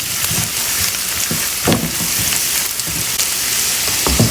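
Garlic sautéing in a hot pan for a Gujarati dinner, a continuous close crackling sizzle with occasional sharper pops and utensil knocks, no voices.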